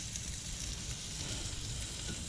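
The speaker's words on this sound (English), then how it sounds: "You can hear that sizzle" A beef eye round roast sizzles on a hot grill, a steady crackling hiss at low volume with no voices.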